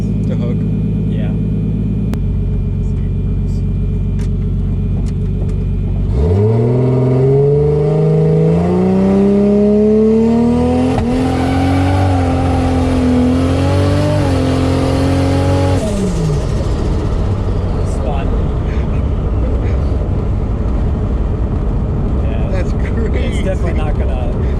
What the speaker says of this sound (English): Try to launch it a little lower on the RPMs.